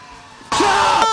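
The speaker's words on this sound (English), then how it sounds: "I tend to scream when I get scared." A person screams in fright: a sudden, loud, sustained shriek bursts in after a quiet moment and holds steady at close range, with no speech.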